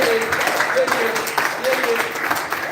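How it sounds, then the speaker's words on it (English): A room of people at a meetup of Ghanaian YouTubers gives a round of welcoming applause, dense steady clapping filling the space with faint voices mixed in. "Let's clap well."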